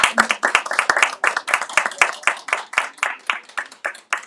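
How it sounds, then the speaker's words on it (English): Audience clapping at a book reading and author event in a bookstore, a rhythmic run of fairly close, loud hand claps that slowly thins out near the end. "Can you give them a round of applause,"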